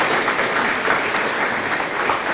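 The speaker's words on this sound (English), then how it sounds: "so give yourself a round of applause" Attendees at a Friends of Tourism event applaud themselves, a dense, lively clapping from a room full of people, loud and continuous with no talking over it.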